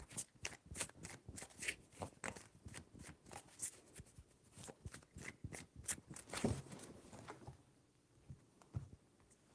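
A deck of tarot cards shuffled by hand, with quick crisp riffles and flutters repeating in bursts up close and quiet, followed by a brief lull near the end.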